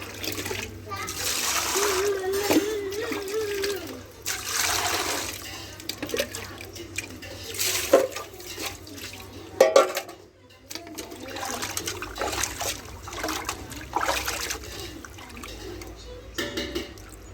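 Fish being washed by hand in water at a fish market in Anantapur: irregular splashing and sloshing close by, continuing throughout with voices talking over it.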